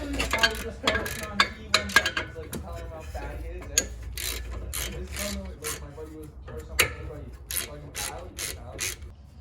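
Ratchet wrench tightening the brake caliper bolts on the front brakes of a 2009 BMW E92 335xi, giving repeated clicking pawl strokes and clanks in irregular bursts, close up, with a little background voice.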